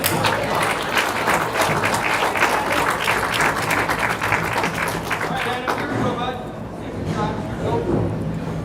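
Spectators at a bowling championship tournament clap and cheer in a sustained burst, the applause thinning and fading toward the end, with commentators talking over it.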